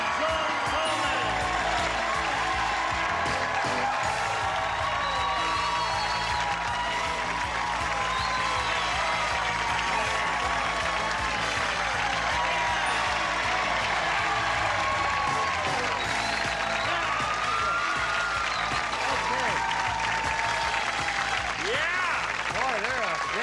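A rowdy studio audience at a 1984 Match Game–Hollywood Squares Hour taping claps and cheers steadily for over twenty seconds, a dense, sustained roar of applause with whoops, while a host talks over it.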